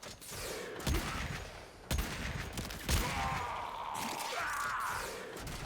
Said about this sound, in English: Alright, fine, I'll shoot a gun.